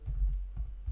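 Quick computer keyboard typing, a handful of soft, close key taps spaced unevenly across a brief moment as a web address is entered.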